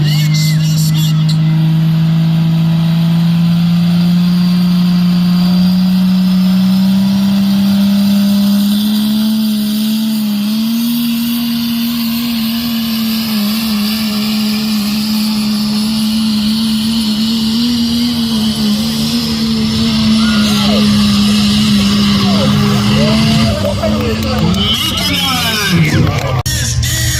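Iron Man, a modified pulling truck at a tractor pull, its engine holding a loud sustained roar that climbs slightly in pitch, with crowd noise and an announcer's voice over it throughout.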